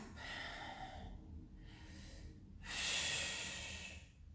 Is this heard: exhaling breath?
yes